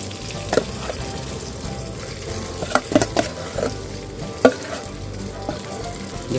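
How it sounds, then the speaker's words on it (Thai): Tilapia meat mixed with laab chili paste dry-frying in a hot pan, with a steady sizzle broken by several sharp scraping knocks as it is stirred. "นี่คือเนื้อปลากับ น้ำพริกลาบที่เขาผสมกันแล้ว ลงไปคั่วเลยนะครับ"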